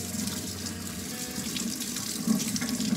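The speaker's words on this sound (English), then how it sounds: "Watching these tubes as the soapy water goes all the way down to the bucket." Soapy water rinses through Surge milker tubes and pours into a bucket on a dairy farm, a continuous rushing, splashing flow at steady volume with no talking.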